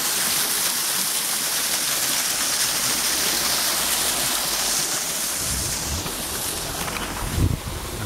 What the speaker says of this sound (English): A lovely waterfall here.